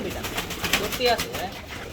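Pigeons coo in a low, soft murmur, with a few short calls rising over steady background noise and nearby voices talking.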